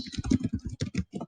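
Typing on a computer keyboard: a quick run of about a dozen distinct, close key clacks in uneven rhythm with a short pause before the last few strokes.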